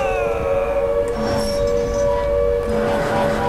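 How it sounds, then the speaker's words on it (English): A siren drones through the Silent Hill 2 video game as a steady, loud, sustained wailing tone with layered harmonics and a low rumbling background, with no one talking. "Is that the siren?"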